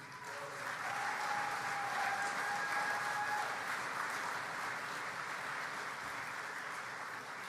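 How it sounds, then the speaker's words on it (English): A convention audience applauds the Premier's introduction at the RMA convention, producing sustained, even clapping from a large crowd that stays full throughout and tapers only a little at the close. "So big round of applause for the Premier."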